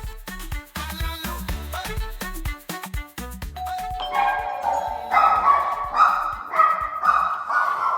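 A dog barks in a rapid string of loud, sharp yaps at a delivery truck pulling up, then the barking gives way to higher-pitched yelps and excited whines, inside a home kitchen.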